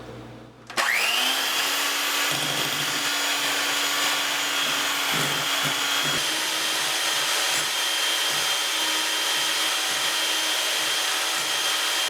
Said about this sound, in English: Beat the egg yolks with the sugar until you get a whitish and creamy mixture.